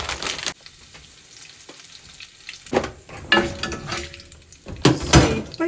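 Curry leaves, cinnamon and cloves crackle in hot oil for a fish curry, with a sharp burst of sizzling at the start, a quieter stretch, then loud spitting bursts returning close by.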